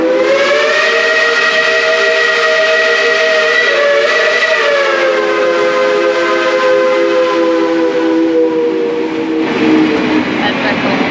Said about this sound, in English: You're gonna have a lot of whistles in this episode.